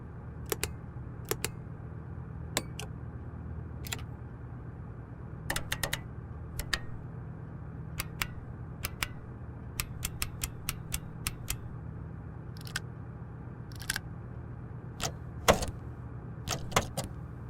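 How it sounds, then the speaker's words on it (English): Crisp mechanical clicks from the buttons and knobs of a Black Square Starship cockpit in Microsoft Flight Simulator, sharp isolated snaps scattered irregularly over a steady low cabin hum, close and distinct. "Every interaction sound in this aircraft was recorded from the real thing, so you can feel the mechanical technology behind each button and knob"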